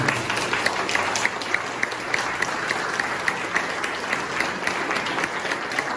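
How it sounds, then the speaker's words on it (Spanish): A church congregation applauds together, a steady dense wash of many hands clapping at close range, with faint murmuring voices mixed into the sustained ovation. "Regalémosle un aplauso al Señor"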